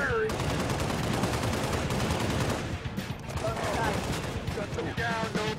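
Rapid automatic gunfire from a Halo Reach campaign battle, dense and loud bursts running continuously, with voices shouting over the shooting.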